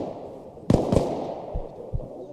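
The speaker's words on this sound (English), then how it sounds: "Yeah, they're shooting each other." Gunfire in the military shooter Arma Reforger: two sharp shots close together near the start, then a couple of duller, lower thumps further off, over a steady background rumble.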